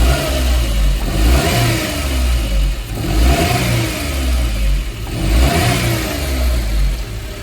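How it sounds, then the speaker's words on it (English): 2002 Suzuki Carry mini truck engine, warmed up with the exhaust refitted, revved in three rising and falling throttle blips, loud and close, with no talking. "All right, so I got it warmed up, and let's check the throttle here."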